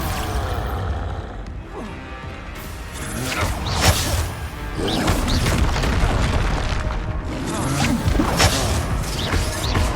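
Repeated Expulso spell explosions in Hogwarts Legacy, loud booms and smashing impacts with whooshes in quick succession, a voice shouting briefly among them.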